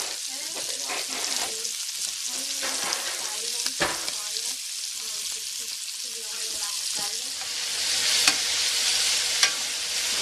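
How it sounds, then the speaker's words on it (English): Steaks pan-frying in butter give a constant close sizzle and crackle, with occasional sharp pan knocks and a soft voice heard faintly underneath. "you can pan fry a steak like this in butter"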